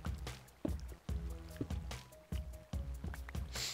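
Flowing water in Minecraft plays as repeated wet, splashy bursts of liquid in an uneven rhythm, fairly close and steady across the stretch.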